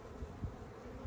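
Bees buzz in a dense, continuous drone at an opened beehive during a hive inspection, a close and steady hum with no voices.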